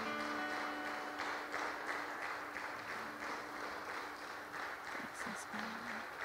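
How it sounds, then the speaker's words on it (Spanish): Quiet congregation clapping in a rhythmic, even beat during a church worship service, faint and somewhat distant, with voices and a sustained tone running underneath. "Dale un aplauso a nuestro Señor."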